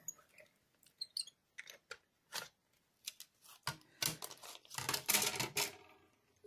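A manual die cutting machine is cranked to push a die through. Irregular dry clicks and ratcheting snaps build toward a denser burst of grinding crunches near the end, quiet and close, with no voices.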